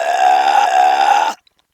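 A single loud, sustained burp rumbles for over a second right after a swig of beer at a burping contest, then cuts off abruptly into silence.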